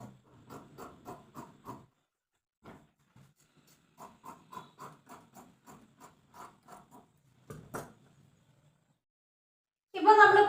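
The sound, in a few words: cutting fabric for a frock nightie body piece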